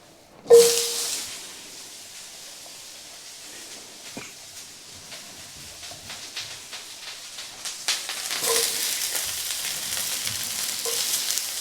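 Vegetables stir-fry in a hot, smoking pan for a colorful veg salad, starting with a sharp sizzle as they hit the oil. The steady frying hiss is then broken by scraping stirs and builds again near the end.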